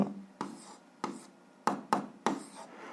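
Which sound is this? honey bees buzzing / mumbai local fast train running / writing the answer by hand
writing the answer by hand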